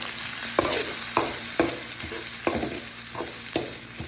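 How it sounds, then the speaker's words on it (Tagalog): Garlic and onion sautéing in hot oil for broccoli with corn, a continuous sizzle punctuated by regular scraping stirs roughly every half second, close and without talk. "nagpainit na tayo ng mantika. Atin yung bawang. Lagay natin yung sibuyas."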